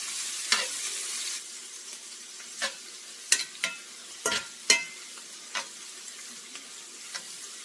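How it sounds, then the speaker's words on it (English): Vegetables for chili sauté in a pot under a faint, quiet sizzle, broken by sporadic spoon scrapes and knocks as they are stirred. The louder clatters bunch toward the middle. "I'm adding in my vegetables. And I'm going to let them saute and get soft before I add my ground beef"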